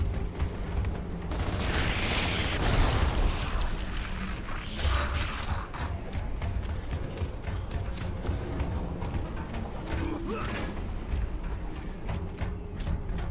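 A door mechanism opened by a robot in the video game Gears of War grinds, creaks and clatters with rhythmic metallic clicks for several seconds, over a busy game soundscape.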